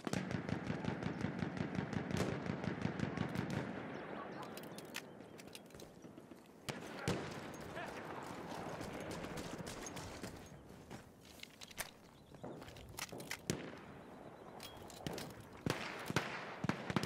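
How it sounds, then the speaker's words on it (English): Machine gun fire in Battlefield 1, a World War I shooter: a fast, steady burst of rapid shots for several seconds, followed by scattered distant gunshots and battlefield crackle over a noisy background. "Machine gun!"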